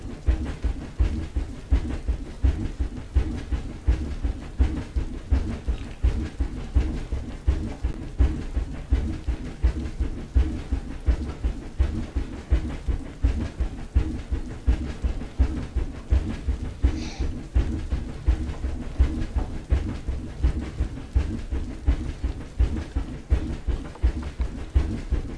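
Rhythmic clickety-clack of train wheels over rail joints, a steady low rumble throughout a long, even ride with no voices.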